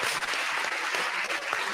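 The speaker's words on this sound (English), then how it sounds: "give a round of applause to Tim again so he feels he's part of it" A round of applause for Tim during an online conference, steady dense clapping from a group, even and sustained for the whole short stretch.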